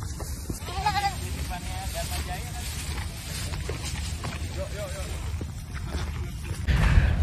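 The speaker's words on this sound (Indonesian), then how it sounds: "Sama kambing-kambing." Goats bleating at the muddy Formula E venue site in Ancol, a few short bleats over steady outdoor noise and faint background voices.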